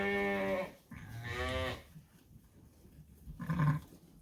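Sheep bleat in a lambing pen, two drawn-out calls close together followed by a lower, rougher one after a pause, fairly close against quiet barn background.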